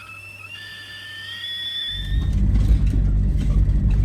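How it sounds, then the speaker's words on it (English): An Iveco Daily camper van pulls away: quiet idle with faint high whistling tones, then the diesel engine swells into a loud, steady low rumble as it moves off. "We're pulling away from Camp Cosy for now."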